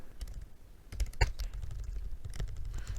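Computer keyboard keys tapped in short irregular bursts while entering C code in Visual Studio, close and fairly soft, with one sharper clack midway and a low room hum underneath.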